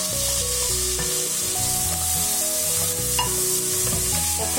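Tomatoes cooking down with bitter gourd in oil for a thokku, a steady close sizzle running beneath a melodic instrumental tune, no voices.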